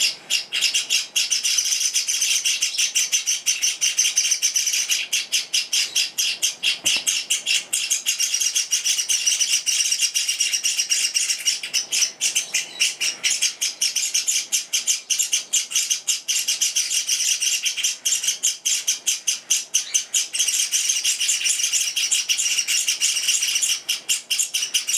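Java sparrow chicks and adult birds chirp continuously and loudly up close, a dense stream of rapid tweets and calls with an insect-like buzz beneath.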